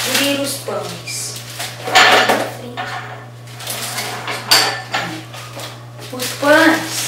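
Pans and a seasoning pot clatter and clink in a home kitchen while an x-salada burger is made, with repeated sharp metallic knocks and scrapes between bursts of talk.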